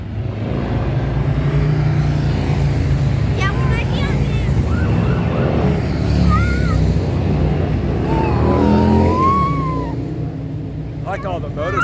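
A presidential motorcade passes with motorcycles and police sirens, wailing and yelping siren tones rising and falling over a loud rumble of engines and traffic. Excited voices talk throughout.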